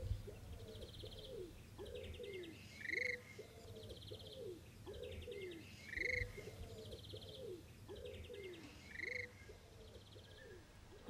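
A captive-reared little bustard chick gives soft repeated calls in a steady rhythm, about every three seconds, each with a brief higher note, faint and close over a low background hum.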